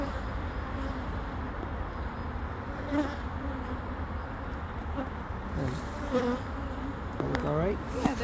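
Bees buzz continuously close by, a dense humming drone with individual insects swelling louder as they pass near.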